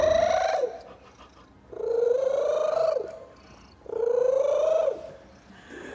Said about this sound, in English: Many are now saying they wish their cat would purr like this.